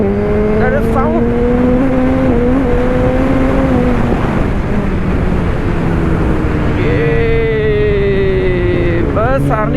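A loud inline-four motorcycle engine is ridden hard through traffic, holding a strong droning note that rises and dips as the throttle changes, with a sharp rev climb near the end and a voice talking over it.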